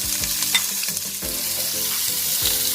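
Onion sizzles and fries in a hot pan while it is stirred, with music playing underneath.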